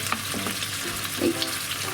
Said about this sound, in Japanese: こちらの巻き終わりを下にして焼いていきます